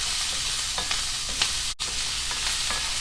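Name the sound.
celery and carrots cooking in a pan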